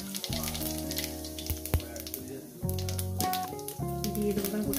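Cumin seeds sizzle in hot oil, a crackling hiss running under strong tonal music with sharp clicks and pops scattered throughout.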